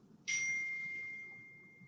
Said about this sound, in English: phone keeps dinging